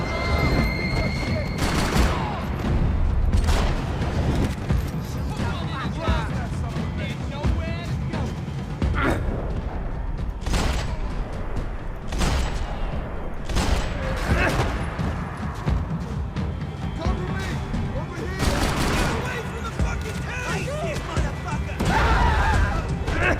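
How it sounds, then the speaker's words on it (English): Dense gunfire from the Max Payne 3 video game over Hoboken: repeated volleys of shots and booms crackle throughout, loud and close, with a voice partly heard among them. "Gunfire over Hoboken."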